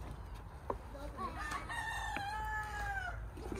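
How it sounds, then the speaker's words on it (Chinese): A rooster crows once at moderate distance outdoors on a quiet farm, with the long drawn-out call rising over a low background rumble. "哟，大公鸡。"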